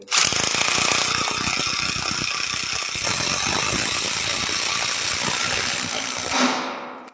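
A cordless DeWalt power tool tears into wood with a loud, continuous, rattling hammering roar that holds steady for about six seconds before winding down and stopping, close up and with no talking.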